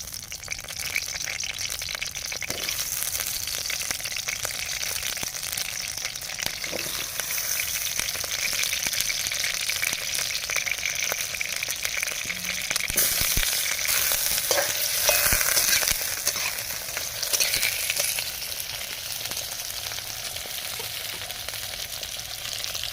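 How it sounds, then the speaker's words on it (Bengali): Potatoes fry in hot mustard oil in a kadai over a flame, giving a steady loud sizzle with crackling bursts that swell in the middle and then settle, with no voices. "দিয়ে দেবো সর্ষের তেল ভেজে নেবো আলু তেল গরম হয়ে গেছে দিয়ে দেবো আলু"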